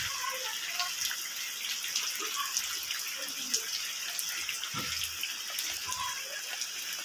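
Rainwater from the first rain of 2024 in Shirale village rushes in a steady, hissing flow, close and continuous, with someone speaking briefly over it.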